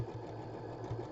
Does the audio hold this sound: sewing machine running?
yes